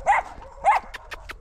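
A puppy gives two short, high yelping barks close by, followed by a few faint clicks and soft rustles in an otherwise quiet space.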